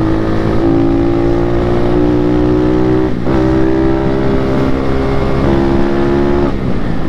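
An Indonesian-made five-speed trail motorcycle engine revs hard and close, holding a steady high-pitched drone that dips briefly and climbs again, loud and alone.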